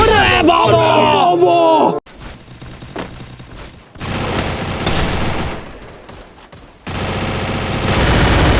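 A FAMAS fires in the video game Free Fire, with rapid bursts of loud gunfire in separate stretches broken by brief quiet gaps, and game music and voices mixed in at the start.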